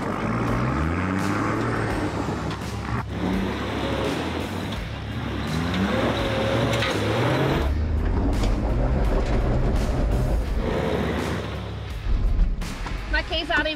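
The engine of an old Nissan GQ Patrol 4WD runs and pulls away, a continuous rumbling drone with shifting pitch as it accelerates, close and fairly loud, with a brief clatter near the end.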